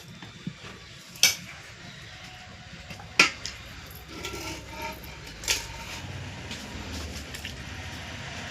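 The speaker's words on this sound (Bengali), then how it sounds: "এবার মাংসগুলোকে আমি ঝোলের মধ্যে দিয়ে দেবো।" Pieces of mutton dropped into simmering gravy in a cooking pot, giving a few sharp metallic clanks and thuds of pot and utensil over a low bubbling background, with no talk.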